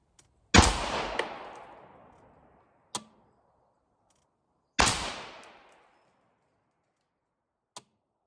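Two loud, close rifle shots from a 5.56x45 rifle with a 24-inch barrel and muzzle brake, each a sharp crack trailing into a long fading echo a few seconds apart, with faint small clicks between them.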